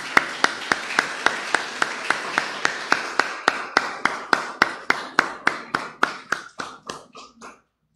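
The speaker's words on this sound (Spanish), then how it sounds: "¿Por qué no le damos un aplauso al Señor?" A church congregation claps together in a steady, even rhythm, roughly twenty sharp claps in a row that thin out and stop near the end.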